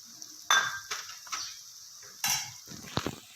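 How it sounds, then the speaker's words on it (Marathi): Fried peanuts tipped into a pan of Jain-style poha, giving a few sharp clattering clinks at the start and again partway through, followed by lighter scraping and tapping of a spoon against the pan, close and without talk. "तळलेले शेंगदाणे टाकून घेत आहे"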